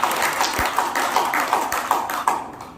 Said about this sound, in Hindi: मैं दोनों के लिए आपसे निवेदन करूंगा कि ताली बजा के उनका स्वागत करें।